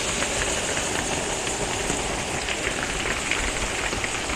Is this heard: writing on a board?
no